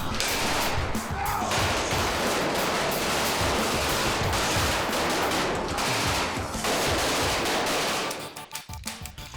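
Film-set guns loaded with full blank loads fire in a dense, loud, continuous barrage of overlapping bursts for about eight seconds, then cut off abruptly, leaving a few scattered clicks and faint room noise.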